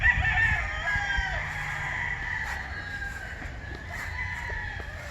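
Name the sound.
chickens and rooster crowing on a farm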